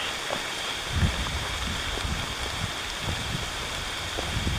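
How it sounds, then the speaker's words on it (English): Steady rain hisses evenly around the listener on a mountain trail in Great Smoky Mountains National Park, with scattered soft drops tapping nearby surfaces, no voices. "Started raining."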